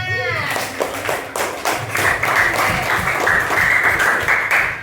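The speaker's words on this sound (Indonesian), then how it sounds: "Nah, tepuk tangannya mana?" Classroom of pupils clapping for a group about to present on human digestion, a loud rapid patter of many hands, close and sustained, with children's voices mixed in.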